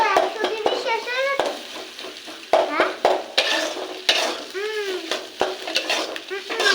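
Egg and potato bhujia with salt and roasted cumin powder stirred in a frying pan: sharp, irregular spatula clicks and scrapes against the pan over a soft sizzle, with intermittent voices.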